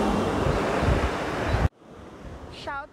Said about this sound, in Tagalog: Ito na yung dagat